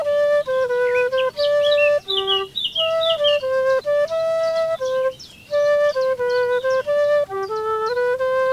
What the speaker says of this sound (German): Da gehen die Vögel den Ton an.